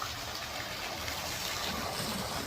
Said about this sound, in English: Cool little roadside waterfall